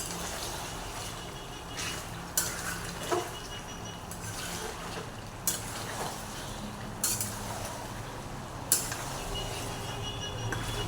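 Large chicken leg pieces being stir-fried in a pan, with a steady low frying hiss broken by periodic sharp knocks of the spatula against the pan every second or two, and no talking.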